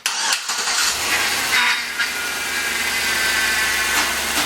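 A car engine with an LS engine swap cranks briefly, catches and starts, then settles into a steady running rumble close by with no talking.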